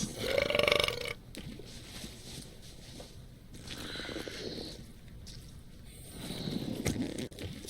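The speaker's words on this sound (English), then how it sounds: "They're excellent for burping contests." Several loud, exaggerated burps from a burping contest in the video game Return to Monkey Island, one long belch at the start followed by more rumbling eructations with game ambience between them, no speech.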